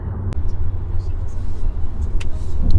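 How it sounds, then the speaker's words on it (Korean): A Hyundai Sonata DN8 driving in sport mode, heard from inside as a low steady engine and road rumble with a brief knock, continuous and fairly loud. "지금 스포츠 모드로 달리고 있고요."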